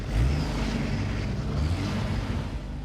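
Car engine revving hard with the accelerator pushed to the floor, a loud, sustained roar that holds steady at high effort for a few seconds.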